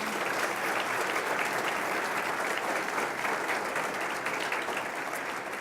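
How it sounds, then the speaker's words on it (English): A large audience at a mayor's State of the City address in Milwaukee breaks into sustained, dense applause, steady and loud throughout with no talking over it. "let's give them all a great round of applause."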